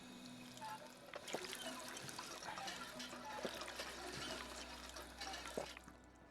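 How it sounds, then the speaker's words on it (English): Water pours and trickles faintly for several seconds, with a few small drips and splashes and no voices. "let me go ahead and get some water"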